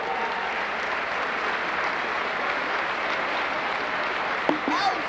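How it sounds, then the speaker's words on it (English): A crowd in a high school basketball gym applauds in a continuous, even wash of clapping, heard alone with a brief sharp knock near the end. "Let's give another round of applause to Gene and Carol"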